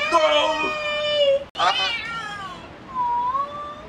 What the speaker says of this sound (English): They are 2 male cats, about 8 weeks old.